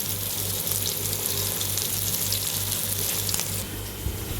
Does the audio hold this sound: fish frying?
yes